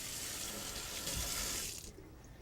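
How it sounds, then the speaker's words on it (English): Tap water runs steadily as dental casts are rinsed under it in a sink, a close hissing splash that cuts off near the end, leaving quiet room tone. "I'm going to rinse these off"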